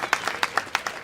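Steady rhythmic hand clapping, about seven sharp, evenly spaced claps in quick succession, close and fairly crisp with no talk.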